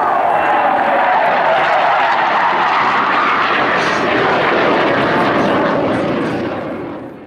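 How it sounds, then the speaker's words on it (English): A loud, roaring aircraft engine from a Royal Swedish Air Force historic flight fills the whole stretch, a steady broadband rumble that fades slightly at the very end as the plane passes. "A great, big, noisy aeroplane."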